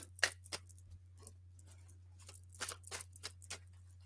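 A few crisp, papery flicks and slaps of tarot cards being shuffled and thrown, irregular and close, over a steady low electrical hum.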